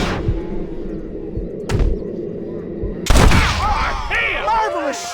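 Gunfire in the Western video game Red Dead Redemption: sharp broadband shots ring out, a loud crack near the three-second mark after fainter earlier reports, followed by a voice talking over the game audio.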